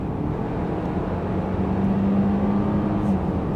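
A 2019 Range Rover Sport P400e Autobiography plug-in hybrid accelerating, a steady low engine drone with rising whir, heard from inside the cabin with no talk.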